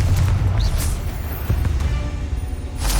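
Bombarda and Confringo blast spells explode in the Hogwarts Legacy video game, giving deep, rumbling booms that roll one into the next through the clip, with a fresh burst near the end.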